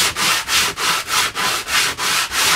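Sandpaper made for a bench drum sander is rubbed by hand over wood in steady back-and-forth strokes, about three per second. The close, loud rasping repeats evenly with no voices.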